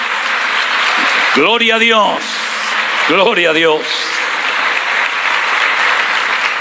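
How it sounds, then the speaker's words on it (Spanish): A church congregation applauds loudly and steadily during a Spanish-language sermon on Matthew 24, the clapping continuing throughout while voices twice call out in praise over it. "Fuerte ese aplauso a nuestro Dios."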